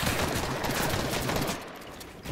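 Gunfire in the video game Fortnite rattles out as a dense, continuous burst of rapid shots at moderate level. The shooting thins briefly near the end before picking up again, with no talk over it.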